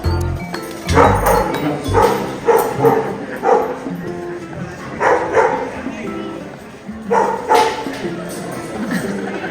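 Sheepdogs herding sheep at a wildlife park bark in short repeated bursts at a moderate distance, with some talk mixed in among the barks.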